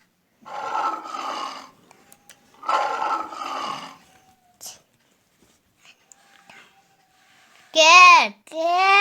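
A lion roars in two long, rough bursts separated by a short pause, loud and close. A brief, higher tonal animal call follows near the end.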